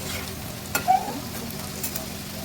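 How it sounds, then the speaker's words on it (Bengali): Potato pieces fry in a kadai with salt and turmeric, giving a soft, steady sizzle broken by a couple of brief scraping stirs. "আলুটা ভাজা হতে হতে নুন হলুদটা দিয়ে দেবো"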